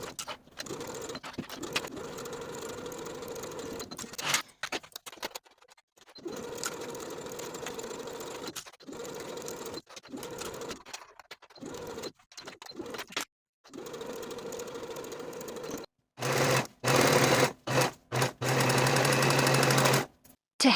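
A sewing machine stitches the side seams of a lined tank top in repeated runs of steady whirring. Short pauses fall between the runs, and a louder, faster burst of stitching comes near the end, close up and alone.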